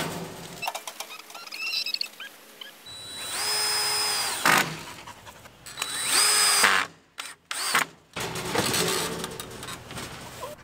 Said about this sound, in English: Now it comes with these brackets right here, which you can screw into your coop wherever it is